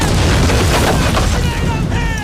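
Mortar fire in a Band of Brothers war episode rumbles as a dense, heavy boom and explosion din, loud and continuous, with voices talking over it.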